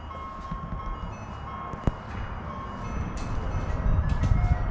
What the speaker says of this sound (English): It's an ice cream truck